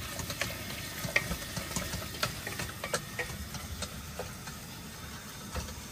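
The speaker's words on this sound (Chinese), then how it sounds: "炒蒜苔必须得大火，先把肉炒熟" Meat and garlic scapes stir-fry over high heat in a wok at a seaside campsite, a steady low sizzle with scattered light ticks and clicks from the spatula, heard fairly close and with no talk.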